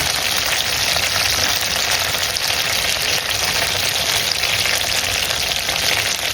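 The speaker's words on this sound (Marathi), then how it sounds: "हांवें घायला कोकोनट ऑयल बरें तापला आनी आतां हांव घालता जायती कढीपत्ता" Curry leaves sizzling in hot coconut oil, a dense, continuous crackling fry that holds steady and close throughout, with no talk over it.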